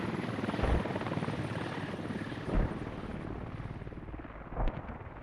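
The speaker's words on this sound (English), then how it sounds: "Linus flying a helicopter forward here" A helicopter in the military video game Squad flies past, its loud, dense rotor thrum and engine whine steady, with several heavier thumping swells as the high whine fades out toward the end.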